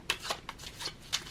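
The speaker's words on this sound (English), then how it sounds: "It's just my awkwardness in shuffling" A deck of tarot cards being shuffled by hand, quiet and close: several short papery riffling bursts in an uneven rhythm, with no one talking.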